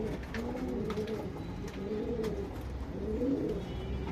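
A male Chapper Makshi pigeon coos in soft, repeated rolling phrases, close by but fairly faint, with no talking over it.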